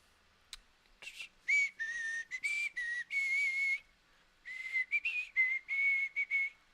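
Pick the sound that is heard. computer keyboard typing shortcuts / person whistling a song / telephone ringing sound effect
person whistling a song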